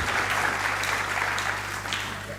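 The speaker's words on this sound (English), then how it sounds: "give them a round of applause" Conference audience applauding panelists, a continuous, moderately loud patter of many hands clapping at an even density without a break.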